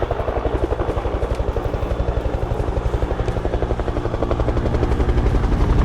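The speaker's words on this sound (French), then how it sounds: "on entend l'hélicoptère" Loud, steady rapid chop of helicopter rotor blades in the video game Stalker 2, close and continuous, with a low engine drone underneath.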